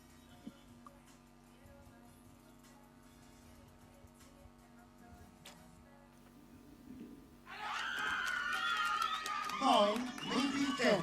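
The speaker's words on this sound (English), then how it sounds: "they've got the support of the crowd. We can hear that, trying to cheer their team on" Crowd at an African Championships recurve archery mixed team gold match in Nabeul cheers and shouts loudly, rising suddenly after a stretch of quieter background murmur, with voices swelling toward the end.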